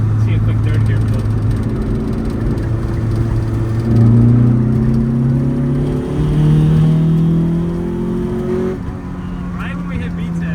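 Honda CRX engine accelerating hard through the gears into VTEC on San Francisco streets, heard from inside the car as a loud rising whine that climbs in pitch, drops with each shift, then climbs again, with people talking over it.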